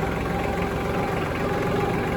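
Tractor engine idling on a house build site, a steady low rumbling drone with a faint high whine, close and continuous with no speech.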